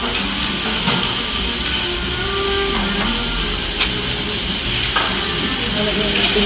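Steak sizzles loudly on a hot plate at an Ikinari Steak restaurant in Japan, a constant hiss of frying with occasional sharp pops of spattering oil.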